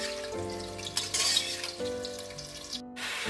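Chicken frying with spinach and tomato in a pan, a soft steady sizzle with brief stirring scrapes, while background music plays faintly throughout and no one speaks.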